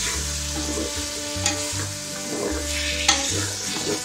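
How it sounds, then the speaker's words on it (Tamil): Tomatoes and vegetables with curd and rock salt are mixed in a hot pan, giving a steady close sizzle under rhythmic scraping stirs and a couple of sharp spoon knocks, with no voices. "அது நல்லா ஒரு மிக்ஸ் கொடுத்துக்கோங்க"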